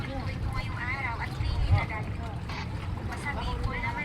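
A bangka boat on the water at a coastal landing makes a low rumbling drone and washing noise while people talk over it, the sound steady and moderately distant.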